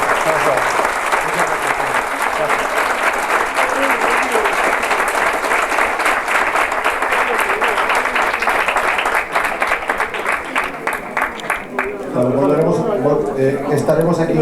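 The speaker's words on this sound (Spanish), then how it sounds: "Un aplauso para Pedro" A conference audience applauds Pedro, sustained dense clapping from a crowd that holds steady for most of the clip before thinning and giving way to a voice.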